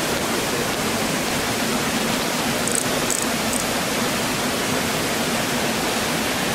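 A steady, rushing roar of falling water fills the whole stretch, constant and dense with no pauses.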